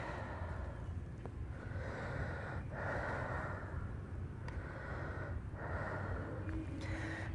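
A yoga practitioner breathes deeply and slowly, soft airy inhales and exhales swelling and fading in long cycles, close but quiet over a low steady hum, with no words spoken.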